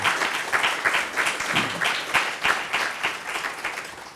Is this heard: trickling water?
no